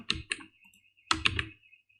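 Computer keyboard keys typed in two short bursts while writing CSS code, with a quiet gap between them. The clicks are close and crisp, and nobody speaks.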